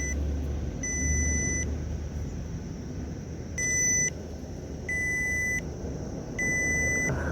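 A fish finder sounds an alert while fishing, repeating short electronic beeps in several separate bursts over a steady low background rumble.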